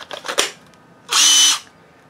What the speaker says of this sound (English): Let's grab my drill.